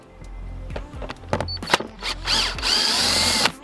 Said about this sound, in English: the last part of the process is to remove the two T25 screws that hold the underneath of the intercooler